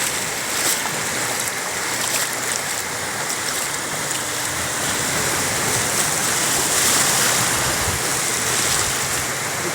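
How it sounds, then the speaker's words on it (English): Waves rolling onto a beach under cloud, heard as a steady, loud wash of surf that stays dense and unbroken from start to end, with no voices. "Nice waves are there."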